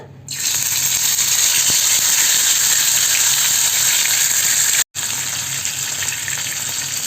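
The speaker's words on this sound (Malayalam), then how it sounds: "ഇനി നമുക്കിതിൽ ഫ്രൈ പാനിലേക്ക് ഇട്ടിട്ട് വറുത്തെടുക്കാം" Masala-coated fish frying in hot oil in a frying pan for a Kerala-style lunch makes a loud, continuous close-up sizzle with a light crackling rattle. It runs unbroken apart from a momentary dropout near the end.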